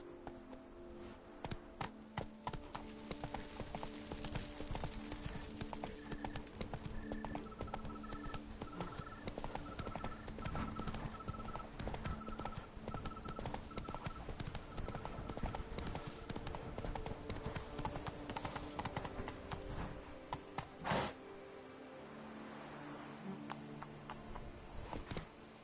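The horse Roach gallops in The Witcher 3, a steady run of rapid hoofbeats on the ground with game music playing underneath.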